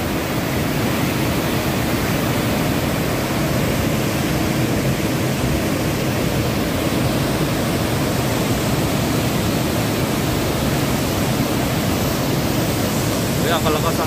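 A strong water current rushes at a tourist spot with a loud, constant roar of churning water filling the whole scene, steady and unbroken throughout.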